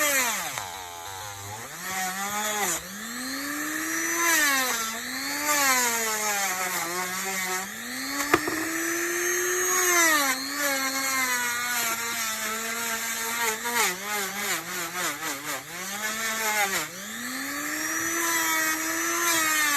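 A handheld Dremel rotary tool polishes a silver ring set with moss agate, whining close and loud. Its pitch keeps rising and falling as the tool presses on the metal and eases off, with no voices.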